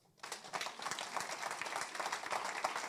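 Audience at a prayer service breaks into applause, a dense patter of clapping that starts abruptly after a brief quiet moment and continues steadily, faint and somewhat distant.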